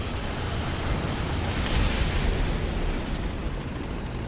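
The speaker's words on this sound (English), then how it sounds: "Little airstrike by the Wyvern probably helped keep his attention off me too" An airstrike explosion in War Thunder, a dense roaring blast that swells around the middle and rumbles steadily on for several seconds, loud and unbroken, with no talk over it.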